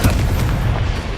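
A Confringo blasting spell explodes in Hogwarts Legacy, a single loud, deep boom that rolls on as a heavy rumble for just over a second.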